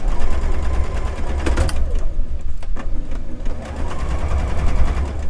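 Sewing machine stitching, a loud, fast mechanical whirr with rapid needle rattling, briefly pausing and restarting mid-way, close up and with no talking.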